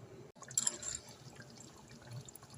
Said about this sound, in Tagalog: Lagyan natin ng tubig, tapos takpan hanggang lumambot.